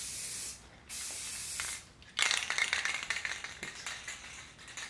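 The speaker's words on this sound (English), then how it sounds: "It's almost to the point I don't want to spray anymore out of this can." A nearly empty spray paint can sprays in several short bursts followed by a longer, sputtering hiss that turns uneven as the can runs low. The sound is close, with no talking.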